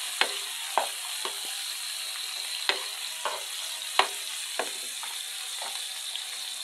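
Ikabichi fish dish being stirred in a pan, with a spoon scraping and clinking in sharp, irregular taps over a steady soft sizzle of frying.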